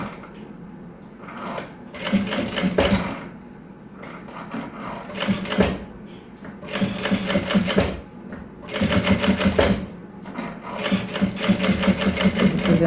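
A domestic sewing machine stitches piping onto a small fabric travel case in repeated bursts of rapid mechanical rattling separated by short pauses, close and loud.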